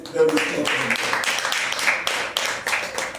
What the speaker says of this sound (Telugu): అందరూ చప్పట్లు